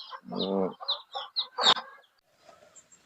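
Newly hatched young chickens on a small farm give a quick run of short clucks and peeps, close and fairly loud, then fall quiet.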